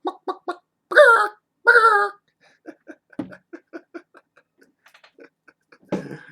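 Someone imitates a chicken with the voice, giving a few loud squawking clucks followed by a run of short, quieter clicking clucks with pauses between them.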